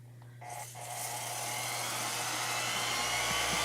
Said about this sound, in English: this is just a fun little hand sander